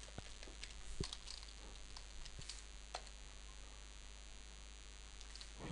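Quiet, sparse keystrokes on a computer keyboard tap out text in irregular bursts with short pauses, close and faint, with no talking.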